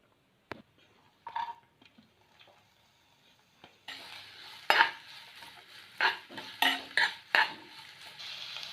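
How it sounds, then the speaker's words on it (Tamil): Onion and curry leaves dropped into hot oil for an egg pepper fry, starting with faint clinks and taps before a sudden sizzle, then repeated scraping stirs with a spoon against the pan, close and moderately loud. "அடுத்தது வெங்காயமும் கருவேப்பிலையும் ஆட் பண்ணிடலாம்"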